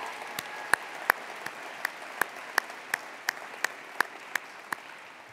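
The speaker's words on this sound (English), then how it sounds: "How about a big Viking cheer for Board Vice President Sunny Zia" Sparse applause at a college State of the College address, a dozen separate sharp claps spaced fairly evenly and ringing faintly in a large room.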